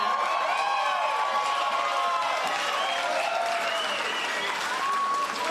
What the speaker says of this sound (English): give a huge round of applause to Gerard Maley